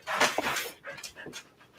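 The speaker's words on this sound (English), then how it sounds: "Sheesh, that dog." A dog pants rapidly and breathily close by indoors, in quick uneven bursts that fade slightly, with no talking.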